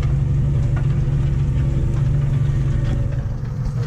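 A tractor engine runs loud and close while ploughing a dry field, a steady low rumble with exhaust drone and no speech.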